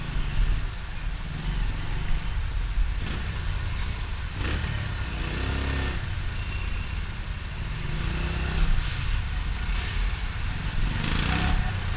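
A large truck rolls past on the road, a steady loud rumble of engine and tires with brief rises in level, heard from a motorcycle vlogger's ride with wind and traffic noise around.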